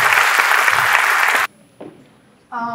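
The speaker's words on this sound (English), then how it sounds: "Let's please give another round of applause" Loud, dense audience applause at a dance event carries on for about a second and a half and then cuts off sharply, followed by near silence and a brief voice at the end.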